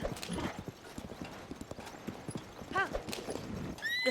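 Horse hooves clip-clopping steadily in Zelda: Tears of the Kingdom, with a brief whinny near the end, quick close rhythmic footfalls over game ambience.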